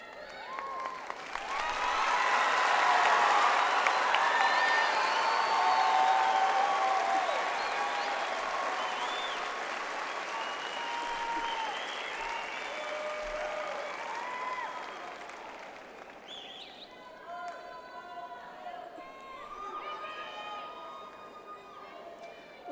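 A large audience at a high school graduation ceremony applauds graduates with sustained, dense clapping that swells and then gradually thins, echoing in a big hall, with scattered cheers and crowd murmur underneath.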